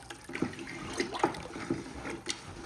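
Ceramic glaze is stirred in a partly filled bucket, a soft wet sloshing and swirling with a few scraping knocks against the bucket sides, close and moderately quiet.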